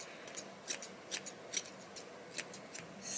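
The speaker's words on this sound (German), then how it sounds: "Ich mache es jetzt mal mit der Effilierschere." Thinning scissors snipping through long hair, a steady series of crisp, close metallic snips spaced roughly a quarter second apart in a quiet room.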